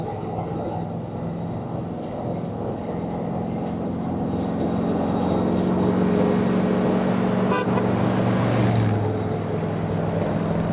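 A restored 1978 Chevrolet Scottsdale K20 4x4 pickup driving on the road, its engine a steady low drone with road and wind noise that swells slightly as it goes.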